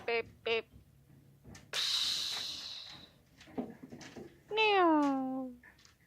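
A voice imitates a cat meowing, with several short meows early on and a longer, drawn-out falling meow later, separated by breathy noises and faint background sounds.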